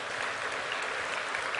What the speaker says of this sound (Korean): 하나님 앞에 감사 박수 한번 해요.